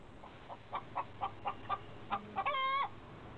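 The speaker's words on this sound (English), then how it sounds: "You let the chicken out the cage." A chicken clucks in a quick run of short rhythmic calls, ending in a longer, drawn-out squawk, close and clear over quiet background.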